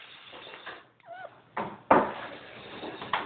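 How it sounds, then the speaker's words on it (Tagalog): A cat gives a short meow, followed by a couple of dull knocks and thumps against a steady hiss of background noise. "Ito ang pusa."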